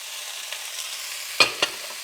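Carrots, peas and onion are stir-fried in a hot wok, a steady soft sizzle running throughout, broken by two sharp clinks of a utensil against the wok.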